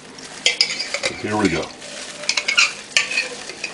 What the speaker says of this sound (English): Sorry for any excess noise from the scraping.